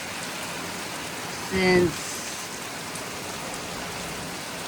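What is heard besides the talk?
heavy rain pouring outside a home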